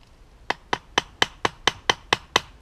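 A homemade hammer strikes a K-bar knife blade, nine sharp, evenly spaced metallic knocks in a steady rhythm, close and clear over a quiet background.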